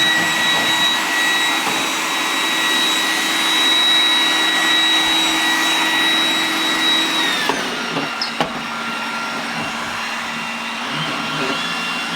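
A Roomba robot vacuum cleaning the floor gives a steady loud whirring drone with a high tonal whine. The pitch shifts and drops as it lifts over a carpet edge, followed by a couple of soft knocks.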